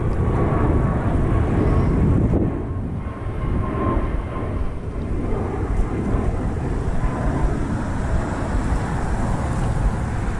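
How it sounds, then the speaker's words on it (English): A loud, steady jet roar rumbles without a break, like an airplane powering up for takeoff nearby in Dallas. "There's been a plane taking off about every 10 minutes."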